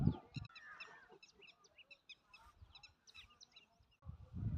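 Wild ducks calling near water, a quick series of nasal honking calls, faint and somewhat distant, with brief rustling thumps at the start and end.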